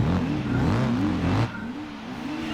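A car engine in Gran Turismo 4 idles and revs at low rpm, a steady mid-pitched drone with wavering tone, louder for the first second and a half then dropping to a quieter hum.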